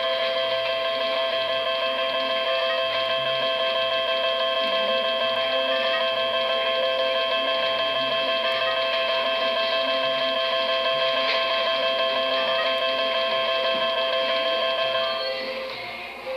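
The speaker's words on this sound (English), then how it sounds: "When you put your money in the machine, and remember this machine takes all denomination bills from 1 to 100, your credits will ring up right here." A 1990s slot machine that takes bills from 1 to 100 rings up credits in a steady electronic tone and chime pattern, sustained and fairly loud for the whole stretch, with mechanical ticking beneath it and no talking.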